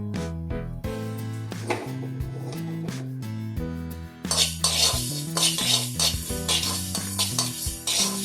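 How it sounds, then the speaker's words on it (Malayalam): Fenugreek seeds being roasted and stirred in a pan for mango pickle, with a metal spoon scraping and clinking against the pan in close, uneven strokes, then a louder hiss of roasting from midway on. Low tonal background music runs throughout. "ഇനി നമുക്ക് ഉലുവ വറുത്തെടുക്കാം"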